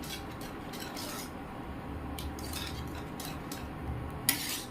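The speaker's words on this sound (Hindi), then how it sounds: "इसको आपको कंटिन्यू चलाना है, जब तक इसमें उबाल नहीं आए तब तक थोड़ा थोड़ा से चलाते रहिए बीच में इस तरह से" A spoon stirs barley rabri porridge in a pot on a high flame, making soft scraping and occasional light clinks against the metal, steady and close, with a sharper knock near the end.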